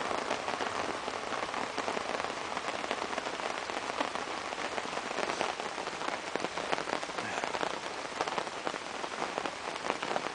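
Steady, heavy rain patters densely on a surface nearby, heard from inside a log shelter, a constant hiss of drops with no voices.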